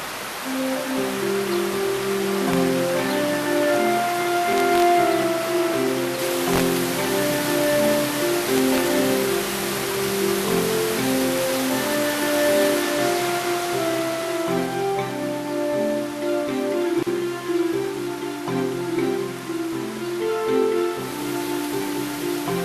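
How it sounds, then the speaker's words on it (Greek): Water pours steadily from village spring fountains beneath tall plane trees, a continuous close rushing wash that holds an even level throughout, with no voices. "στο βάθος οι βρύσες. Ο ήχος του νερού, η πηγή της ζωής."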